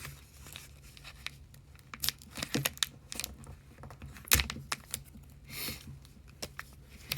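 Crinkling foil trading card packs being ripped open in short, irregular bursts, close up, with sharp tearing snaps between quieter rustles.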